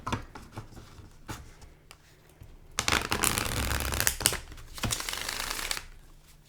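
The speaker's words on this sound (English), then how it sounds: "Let's do a little shuffle." A Rider-Waite style tarot deck is shuffled by hand nearby: soft, separate riffling flicks at first, then a louder, dense burst of cards cascading, followed by a few more shuffling rushes.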